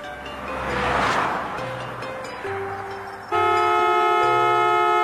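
An animated truck with failed brakes blares its horn in rising, sustained honks, several tones stacking into a loud, steady blast by the end, with engine noise underneath.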